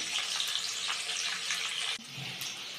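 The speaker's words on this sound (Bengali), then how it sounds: "আলুগুলোকে এবার আমি লাল লাল করে ভেজে নেব।" Potato pieces frying in oil in a pan while preparing a Bengali-style mutton kosha, giving a steady, dense hiss and sizzle from start to finish with one small dip partway through, close up and without any talk.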